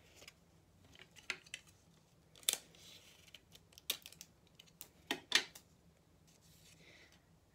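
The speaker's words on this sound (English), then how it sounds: "I'm going to grab some tape and I'm going to apply it to the very ends of this" Tape is pulled and pressed onto a paper cherry blossom windsock in a quiet room. There are scattered sharp crackles and short rips, some louder, with soft pauses between them.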